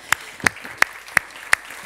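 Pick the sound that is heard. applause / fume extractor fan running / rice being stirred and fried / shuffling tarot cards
applause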